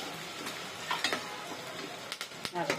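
Chopped onion sizzles quietly in hot oil in a pan while cooking a Maharashtrian bhaji, a soft, steady fry broken by a few scraping stirs and light utensil clinks.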